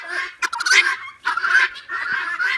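Guinea fowl near a chicken coop give harsh, raspy, repeated calls in three close bursts separated by short pauses.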